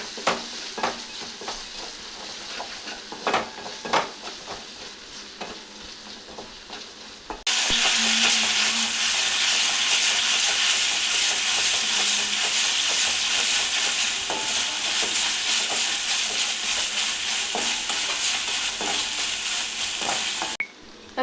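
Pasta is stirred in a pan, first with scattered scrapes and clinks over a quiet sizzle, then a sudden loud, steady hissing sizzle holds for about thirteen seconds before cutting off abruptly.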